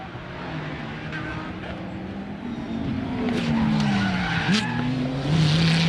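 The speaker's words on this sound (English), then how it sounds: "One of the B3 racing cars is off in the background." A B3 racing car skids off the track with a long tire squeal and engine whine, rising in pitch and loudness, while a commentator talks over it.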